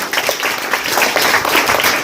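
A crowd claps loudly and densely for student Pranjal Sawant at a tenth-grade farewell ceremony at a school in Malkapur, with a continuous wash of applause throughout.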